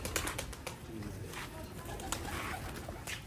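Sialkoti pearl-marked pigeons coo continuously nearby, several birds overlapping in a soft, steady murmur with a few faint clicks.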